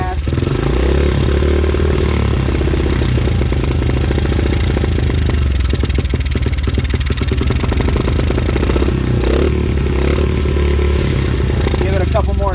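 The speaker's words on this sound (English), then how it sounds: "Fire back up. Get those RPMs up," An engine running with the throttle blipped to raise its RPMs: a loud, close, steady clattering drone with rough mechanical knocking throughout.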